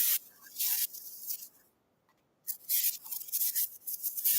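Hairspray misted over a set of hair rollers in short hissing bursts, a pause of near silence in the middle, then several more quick sprays close by.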